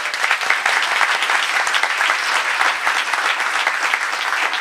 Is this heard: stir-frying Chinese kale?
no